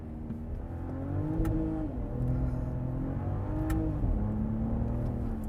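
A 2025 Ram RHO's inline-six engine pulls hard after a downshift, revs climbing in two rising sweeps under a steady drone from inside the truck, with no talking.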